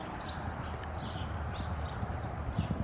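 An excited horse moves eagerly with a quick run of clip-clopping hoofbeats, soft and somewhat distant over a low background hum, with no talking.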